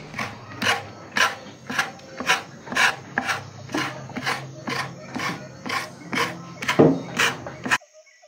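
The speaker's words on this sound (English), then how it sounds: "the women learn how to scrape the flesh off the fibers" Yellow agave leaf fibers scraped by hand to strip away the flesh, a steady series of about fourteen rasping strokes at a regular rhythm, close and fairly loud, ending abruptly.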